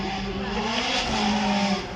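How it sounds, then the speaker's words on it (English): A Ferrari 430 Scuderia runs a demonstration lap at a supercar weekend, its exhaust howling loudly and steadily as it passes nearby, a strong continuous engine roar with rising tone. "that exhaust kicking in. Let that car howl."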